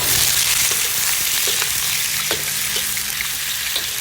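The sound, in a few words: stir-frying prawns with ginger and garlic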